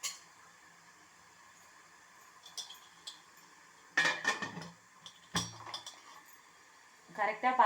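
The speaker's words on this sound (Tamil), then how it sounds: "இப்போ வந்து நான் மூடி போட்டு மூட போகிறேன்" A metal lid set onto a cooking pot while steaming salt dumplings (uppu urundai) in a home kitchen: a few close clanks and clinks of metal, one sharp knock, scattered among quieter handling noises.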